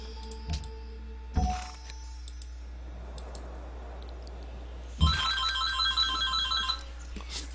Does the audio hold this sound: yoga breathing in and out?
no